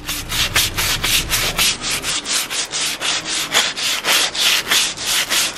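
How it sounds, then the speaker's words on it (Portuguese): A small brush scrubs dirty beige floor grout in a bedroom, making loud, close, rhythmic bristle rubbing strokes at a steady back-and-forth pace. "Acho que eu vou pegar uma escovinha pra esfregar."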